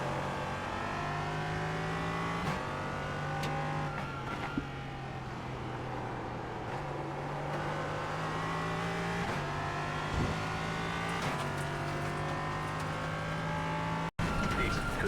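LMP3 sports prototype race car engine at Watkins Glen, heard close from onboard, revving hard through the gears with rising pitch sweeps, sharp downshifts and blips, and a continuous high-pitched roar, with brief talk over it.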